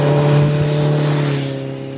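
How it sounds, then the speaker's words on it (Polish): Suzuki GSF1250S Bandit motorcycle with an aftermarket Yoshimura exhaust, a loud, close, steady engine drone with a strong low hum that eases slightly toward the end; no talking. "Bałem się, że ten motocykl będzie za głośny, że będzie ten dźwięk po prostu męczący na dłuższą metę"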